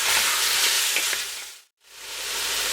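Harira soup ingredients seasoned with salt and pepper sizzle loudly as they are stirred in a hot pot, a close steady hiss that cuts out abruptly near the end before returning, with no talking.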